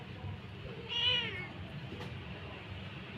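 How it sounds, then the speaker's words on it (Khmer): A sick cat gives a single clear meow, fairly close, over a steady low background hum with no talking. "แมว"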